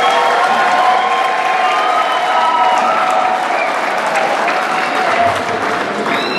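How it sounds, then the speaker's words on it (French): Church congregation applauding steadily throughout, a dense, sustained wash of clapping from a crowd filling the space, with faint cheering mixed in and no break. "je vous invite à donner une salve d'applaudissements"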